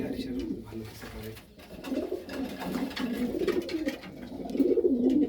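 Pigeons in a breeder's loft coo in low, repeated throaty phrases close by, with people talking intermittently over the birds.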